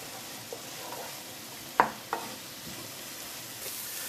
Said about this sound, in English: The spring onion and carrot are now cooking together